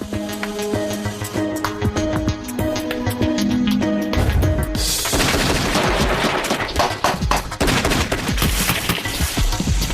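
A remote-controlled weapon turret fires live ammunition at barrels in loud, rapid automatic bursts. Sharp cracks come first over a musical backing, then a dense, sustained barrage of gunfire fills the rest.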